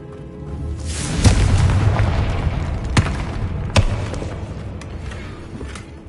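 A Confringo spell explosion in Hogwarts Legacy lands as a loud, booming blast with a rumbling tail, followed by two sharp impact cracks.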